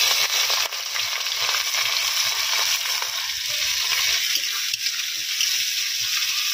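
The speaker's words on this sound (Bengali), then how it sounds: "আর পেঁয়াজ কুচি দিয়ে দেবো।" Chopped onions hit hot oil already frying whole cloves and cardamom for a chicken curry, setting off a loud, steady sizzle with occasional stirring scrapes, close up and without any voices.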